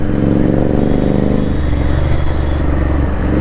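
A Royal Enfield motorcycle engine fitted with an iridium spark plug runs loud and close in a steady low rumble, its pitch wavering slightly as the throttle shifts.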